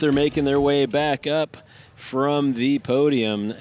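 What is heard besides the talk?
No everyday noises stand out.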